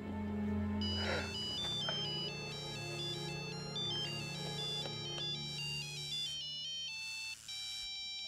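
An electronic phone ringtone plays a repeating melodic tune of bright tones, steady and fairly loud, over a low background hum.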